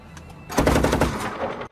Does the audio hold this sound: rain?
no